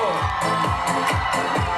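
A festival crowd cheers for a DJ at the Dni Wronek 2016 town celebration, with a loud thumping dance beat pounding steadily underneath throughout.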